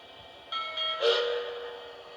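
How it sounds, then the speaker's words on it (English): A Lionel Legacy model steam locomotive gives a pair of bell dings followed by a steam whistle, fairly quiet and close, with a steady hum underneath. "When you hold down aux 1, you get 2 dings and a whistle"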